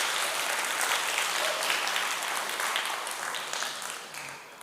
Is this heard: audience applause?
yes